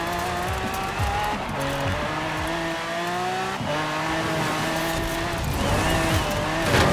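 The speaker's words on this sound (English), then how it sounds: "Nice drift." A car drifting in a Forza Horizon 4 dirt race, the engine revving and shifting through gears while the tires squeal and skid, loud and continuous, rising again near the end.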